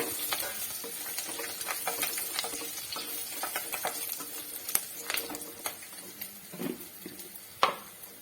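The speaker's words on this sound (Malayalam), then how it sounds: "ഇഞ്ചിയും വെളുത്തുള്ളിയൊക്കെ മൂത്ത് വരുന്നുണ്ട്. നമുക്ക് ഇച്ചിരി കരിയാപ്പില ഇടാം." Ginger and garlic frying in a pan of oil for an avoli (pomfret) fish curry, then curry leaves added; a steady soft crackle with scattered ticks and stirring scrapes, a few louder clinks near the end, no talk.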